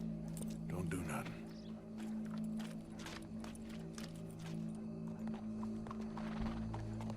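Horse hooves clip-clop steadily over a constant low hum and background noise, with faint voices now and then, in the video game Red Dead Redemption 2.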